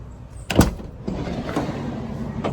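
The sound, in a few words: van doors being opened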